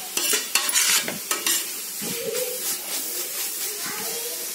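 Ginger garlic paste is stirred and sautéed in a pan for country chicken dum biryani: sharp spoon scrapes and clinks against the pan at first, then a softer, ongoing sizzle and hiss.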